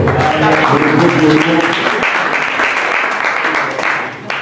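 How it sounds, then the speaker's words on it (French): A church congregation bursts into applause and cheers for the singers, dense clapping filling the room with some voices mixed in, fading slightly toward the end. "Est-ce qu'on peut acclamer le Seigneur pour les chanteurs?"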